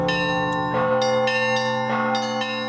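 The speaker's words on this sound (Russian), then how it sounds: "Очень красивый звукоряд, очень гармоничное сочетание колоколов между собой." Church bells of the Alexander Nevsky Lavra ring at a bell-ringing festival, with layered bronze strikes over a deep sustained hum, loud and close, overlapping in a steady harmonious pattern.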